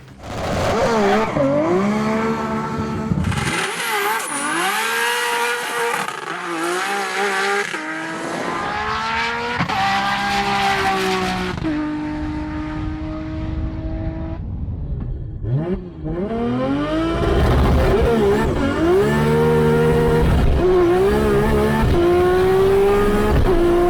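Nissan GT-R R32 drag cars with 2.6-litre engines, around 1000 hp, launch down an airfield runway, engines revving hard through rising gear changes with tire squeal, one run after another, loud and close.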